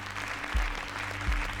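A television quiz show's studio audience keeps applauding steadily, a dense continuous wash of clapping with a couple of low thumps underneath.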